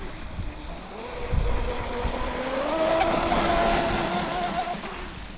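A Pro Boat BlackJack 24 V2 RC speedboat with a custom prop runs hard on the water, its high-pitched electric motor whine rising and falling as it turns, moderately distant, with no talking.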